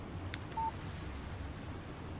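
A phone text message alert in the game Alan Wake Remastered, a short electronic beep with a brief click before it, heard alone over a quiet low room hum.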